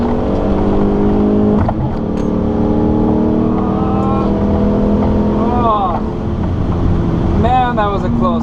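Racing cars accelerate at a drag-style launch, engines revving and rising in pitch as they pull away, loud and close, with a voice talking over the engine noise.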